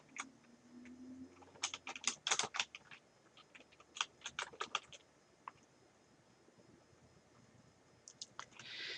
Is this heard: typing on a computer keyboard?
yes